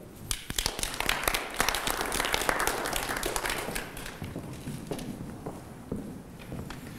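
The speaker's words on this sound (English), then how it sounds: "So big cheer for my committee." A seminar audience applauds a committee, scattered distinct claps building into a brief round that tapers off into sparser claps, moderately close and fairly quiet.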